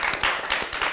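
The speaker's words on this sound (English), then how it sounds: "Can we give a round of applause for Ms." Brief, close audience clapping at a talk event, with a few distinct hand claps standing out in a short burst.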